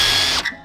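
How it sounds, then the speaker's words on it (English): A power drill whines loudly at close range while drilling holes in a carbon fiber fender for a Nissan 370Z, then spins down and stops within a fraction of a second. "I see you drill right there"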